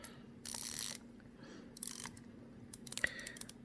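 A Seiko dive watch bezel turned by hand, giving a few soft ratcheting clicks in short bursts, close up and quiet, without speech.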